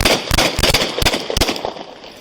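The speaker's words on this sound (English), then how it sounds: "Shots fired. Shots fired." Police officers fire a rapid burst of gunshots at close range, about six sharp cracks in quick succession, followed by a fading echo.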